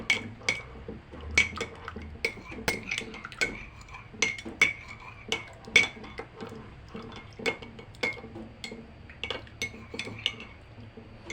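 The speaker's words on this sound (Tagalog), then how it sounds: "Kuha tayo ng kutsara. Haluin." A metal spoon stirs a ginger and calamansi drink in a glass, giving a run of light, irregular clinks and taps against the sides, close and fairly quiet, with no talking.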